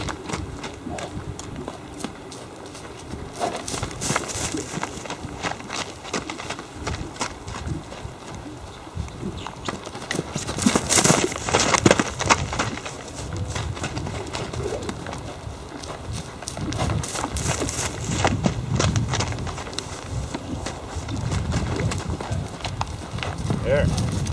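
Horse hooves clip-clopping and shuffling on the ground during groundwork exercises, irregular close steps heard under a trainer's talking throughout.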